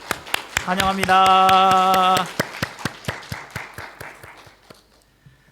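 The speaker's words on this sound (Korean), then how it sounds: "우리 다 같이 박수로 환영하겠습니다." A church congregation at a Sunday worship service claps in rhythm to welcome a visitor, with sharp regular claps throughout. A sustained tone and a brief spoken welcome sound over the first half before the clapping thins and fades.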